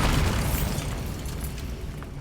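A Bombarda spell blast in Hogwarts Legacy erupts as a dense, rumbling boom that stays loud and low-heavy across its whole length, with a sustained crackle and no voices.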